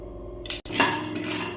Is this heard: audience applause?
no